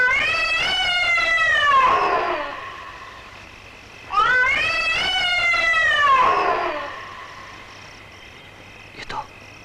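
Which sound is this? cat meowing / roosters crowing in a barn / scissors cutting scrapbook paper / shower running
cat meowing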